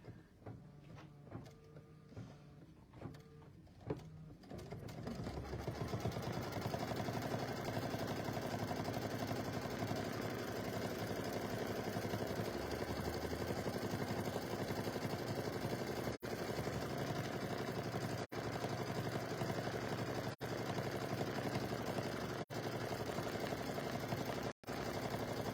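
A sewing machine runs steadily on a mug rug, a continuous mechanical hum that starts after a few seconds of quieter handling and carries on at a constant level with a few brief clicks.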